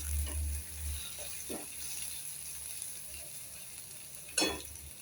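Onions sautéing in a pan for a Bengal gram dal, a steady soft sizzle with a few stirring scrapes and one louder scrape near the end, close by and without talk.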